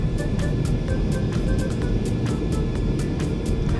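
Steady, loud roar of a Boeing 767 rolling down the runway after landing in a flight simulator game, a continuous broadband rumble with faint rhythmic thumps over it and no pauses.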